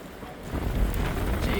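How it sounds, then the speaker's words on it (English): Strong wind gusts outdoors among trees, a loud rushing roar with heavy buffeting against the microphone that swells after a brief calmer moment and keeps blustering. "it is crazy windy out here"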